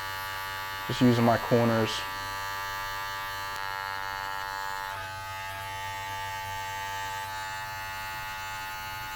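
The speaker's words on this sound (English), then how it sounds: "So now I'm just gonna fade out the beard right here" Electric clippers buzz steadily while fading a beard at a barbershop, a loud burst near the start settling into a continuous hum, with someone talking briefly over it.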